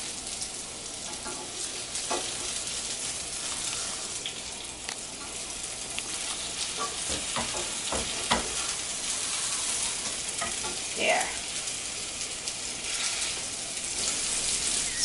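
Salisbury steak patties fry in oil in a pan with a steady, close sizzle that runs throughout, punctuated by occasional louder spits and pops and a brief scrape.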